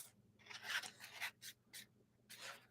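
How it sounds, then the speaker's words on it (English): A small foam nail sanding block rubs across the sealed face of a Pullip doll to remove an embedded thread, making several short rasping strokes close up, alone, with a faint low hum underneath. "a little thread got sealed into her face. I'll sand it off."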